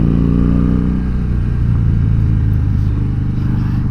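A 2014 Harley-Davidson Dyna Fat Bob motorcycle runs loud and close, its deep engine rumble steady through the whole stretch with faint mechanical clatter and no voices.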